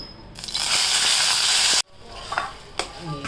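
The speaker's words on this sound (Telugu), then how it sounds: "ఇప్పుడు ఇది వేసుకొని మంచిగా నెయ్యిలో వేపుకోవాలి" Chunks of ash gourd for halwa drop into hot ghee with a loud burst of sizzling that holds steady, cuts off abruptly, then returns as quieter frying with a few stirring scrapes.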